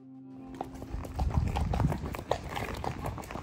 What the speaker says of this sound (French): avec le bruit des sabots